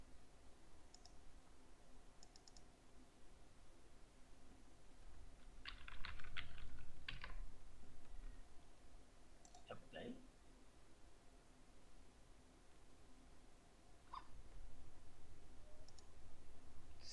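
Computer keyboard typing in short clustered bursts of clicks, interspersed with mouse clicks, while someone talks throughout.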